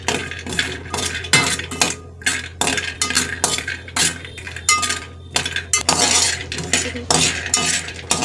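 Cashews for mung dal laddu roast in a pan, with a metal spoon scraping and clinking against it in quick, irregular bursts, loud and close, with no talking.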